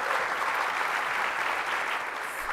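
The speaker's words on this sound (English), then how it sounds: "I think we should give Tony and his team a nice round of applause" Steady audience applause fills a conference hall, a dense continuous clatter of many hands clapping at moderate loudness from start to finish with no voices rising above it.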